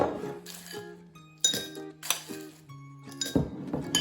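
Glassware clinks and rings while a cocktail is being prepared, several separate bright taps spaced irregularly with sustained tonal ringing between them, close and fairly quiet, no speech.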